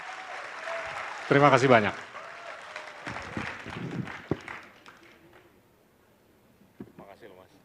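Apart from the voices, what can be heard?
audience applause for Pramono Anung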